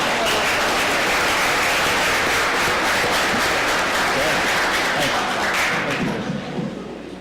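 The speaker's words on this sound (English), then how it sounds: "One last round of applause for everybody." A council meeting audience gives loud sustained applause, dense continuous clapping filling the room at close range, tapering slightly at the end.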